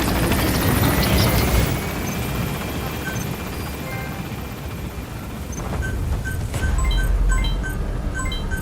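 In Metal Gear Solid V, a helicopter lifts off with a loud, steady rotor roar and engine whine filling the scene, while game beeps and chimes sound in short bursts toward the end.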